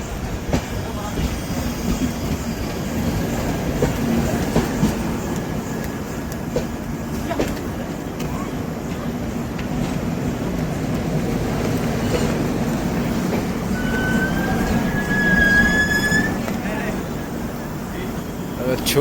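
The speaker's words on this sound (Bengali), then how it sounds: "এটা গোল গম্বুজ এক্সপ্রেস। ঠিক আছে, এটা মাইসার থেকে আসছে এই গাড়িটা।" Gol Gumbaz Express train from Mysore passing through a small station, a steady rumbling roll of wagons with clattering wheels, close and continuous, a brief squeal near the end, while people talk nearby.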